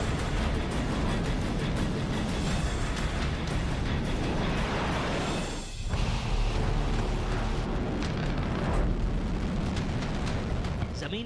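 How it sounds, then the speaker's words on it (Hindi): A North Korean missile launch roars with a dense, loud, continuous blast and rumble, briefly dipping partway through before surging back. "जमीन पर आग का गुबार छोड़कर आसमान की गहराई में गुम हुई इस मिसाइल"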